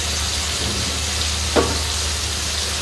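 Chicken shallow-fries in a pan with masala, a loud, steady close sizzle throughout, broken once by a brief knock of a utensil.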